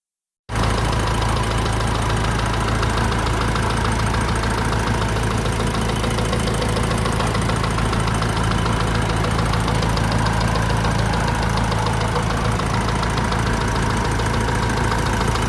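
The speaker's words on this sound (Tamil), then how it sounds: "வண்டியோட சவுண்ட் இப்போ கேட்டுருங்க." Budget seven-seater car engine idling, a loud steady close-up rumble with constant vibration and a faint rhythmic ticking, running alone without talk.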